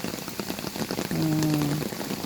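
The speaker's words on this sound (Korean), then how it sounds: "많이 빗소리를 들어보고요" Rain falls steadily outdoors on a rainy day at a hidden spot near Seoul, an even close patter throughout, with a brief low tonal hum joining midway.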